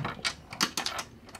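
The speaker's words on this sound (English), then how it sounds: "I'll just pop those four screws in." Screws being driven into the stand of a 2019 LG OLED C9 55-inch TV, heard as a series of short, close mechanical ratcheting bursts without talk.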